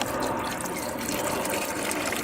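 Distilled water pours steadily into an ultrasonic cleaner holding AMAL Mk 2 carburettors, with a continuous splashing gurgle, fairly quiet and close, without a break.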